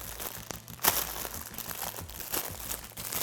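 A plastic bag wrapped around a sausage roll crinkles in a few sharp bursts, close up and moderately loud, with no talking.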